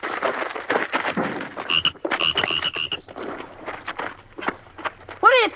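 A toad croaks in short bursts amid shuffling movement and footsteps nearby, with voices talking over parts of it.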